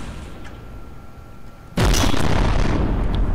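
A ship's guns fire in a space combat game, with one sudden loud boom that then holds as a sustained roaring blast after a quieter, steady hum.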